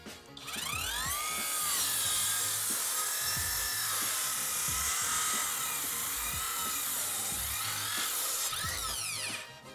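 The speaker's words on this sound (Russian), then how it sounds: "рядышком попробуем прорезать, так, чтобы без гвоздя." A cordless circular saw with a 185 mm, 60-tooth blade cuts through wood in one long, steady whine lasting several seconds, loud and close, spinning up at the start and winding down at the end.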